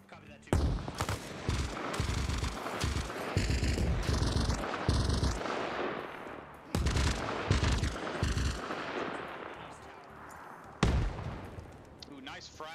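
Frag grenade exploding in Arma Reforger amid WW2-style combat, sharp blasts and gunfire bursting in clusters over several seconds, loud and close, mixed with voices talking over the action.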